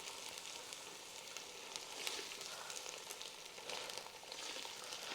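Onion and coriander paste sizzles in a pan over high heat with a steady, bright hiss and a faint crackle, close and unbroken throughout.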